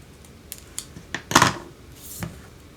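Snips cutting a paper leaf shape in half while making an autumn thank-you card: a few short, crisp snips and then a louder burst of cutting near the middle, close and clear with no talking.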